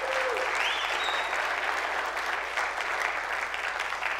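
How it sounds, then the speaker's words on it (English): A church congregation claps for a newly retired military veteran after 43 years of service, sustained, dense applause filling the room at steady loudness for several seconds. "Give him a round of applause."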